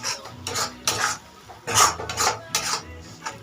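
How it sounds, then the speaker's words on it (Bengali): Masala with a little added water being sautéed and stirred in a pan, with repeated scraping and clinking of a spoon against metal in uneven strokes, close and moderately loud, no talking. "এবার মশলাটা ভালো করে কষিয়ে নেব।"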